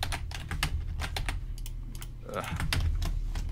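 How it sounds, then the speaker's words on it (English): Rapid computer keyboard typing, close and continuous, with dense clacking keystrokes over a low background hum; a voice briefly speaks partway through. "This keyboard sucks."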